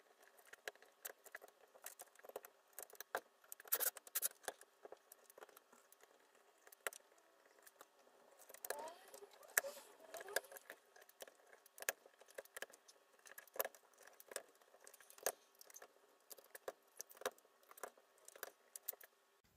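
A small screwdriver works screws loose on the FEP frame of an Elegoo Mars 2 Pro resin printer, giving faint, irregular clicks and metallic ticks close by.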